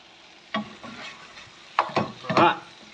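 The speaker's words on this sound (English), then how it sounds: "give that a good stir, make sure all the sauce gets distributed nicely" Teriyaki sauce and vegetables being stirred in a hot pan, with a few scraping stirs and bursts of light sizzling, moderately close and otherwise quiet.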